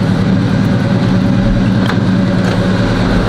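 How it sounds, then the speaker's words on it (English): A loud Chevrolet box-body car engine runs steadily at idle while warming up, a constant low rumble with no pauses or revving. "This car is loud."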